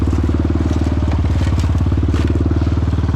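An ATV four-wheeler engine bogging through deep, solid clay mud gives a loud, close, rapid thumping rumble with a steady pulsing beat, continuous throughout.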